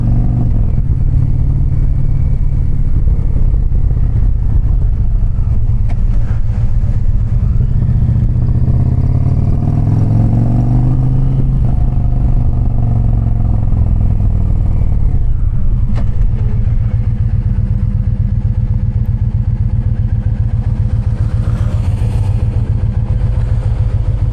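An Indian Challenger/Pursuit motorcycle engine rumbles steadily up close on a hot day, rising and falling in pitch as it revs and idles, with wind noise and no speech.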